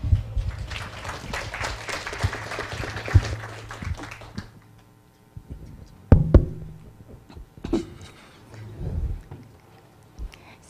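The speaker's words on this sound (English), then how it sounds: "Let's give her a round of applause." Applause at an international pharmacy conference, with a crowd clapping steadily for about four seconds before it fades, followed by quiet room noise with scattered knocks and bumps.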